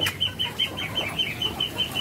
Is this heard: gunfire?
no